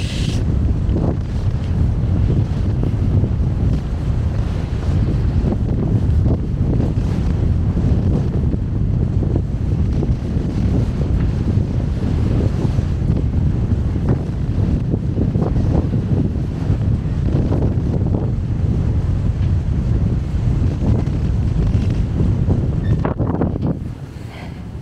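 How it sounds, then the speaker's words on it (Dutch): Strong wind buffets the microphone outdoors during a walk across a bridge, a loud continuous low roar with gusty swells that persists throughout and drops off abruptly at the very end. "En die wind maakt het ook niet veel stabieler."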